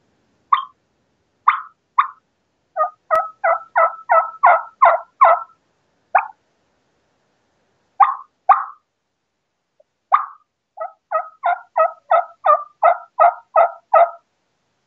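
A mouth call imitates a hen turkey waking on the roost with bubble clucks and tree calls: single soft clucks, then quick rhythmic runs of muted, water-drop-like notes, clear and alone.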